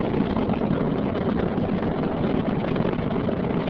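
Space Shuttle Discovery's three liquid-fuel main engines roar during launch ascent, a continuous, dense, muffled rumble that stays steady and loud with no distinct pulses.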